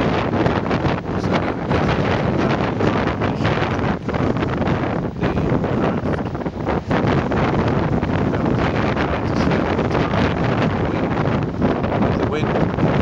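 Strong wind buffets the microphone while a lifeboat is recovered, a continuous loud rushing roar with gusty surges that persists throughout.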